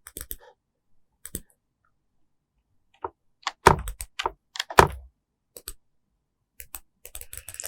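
Bursts of computer keyboard typing with sharp clicks in clusters, separated by pauses, including one brief silent stretch, close and moderately loud with no voices.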